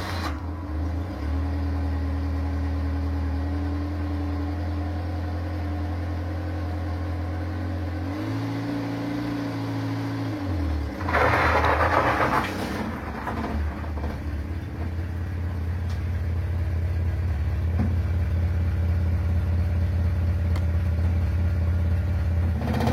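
A 1983 Renault 4 F4 running on a drive, its engine a steady close hum that dips and shifts briefly partway through, then rises into a stronger, fuller drone toward the end.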